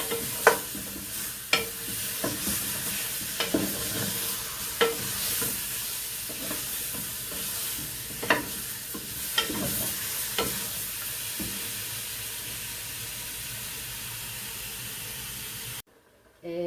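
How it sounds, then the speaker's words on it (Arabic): Meat seasoned with spices fries in a pot while a spoon stirs it, giving a continuous hiss and sizzle punctuated by irregular scraping strokes against the pot before the sound cuts off abruptly. "نقلب فيها"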